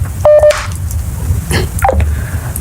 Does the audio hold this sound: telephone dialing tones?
yes